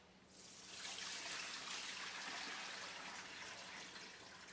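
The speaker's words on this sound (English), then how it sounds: "get all this water drained off of the kelp noodles." Water steadily drains and pours off kelp noodles that have been soaking, a continuous hissing rush that stays fairly even and close throughout, with no talking.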